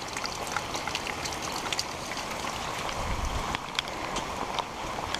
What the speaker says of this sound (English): We're getting a little bit of a rain right now, so they should be flowing.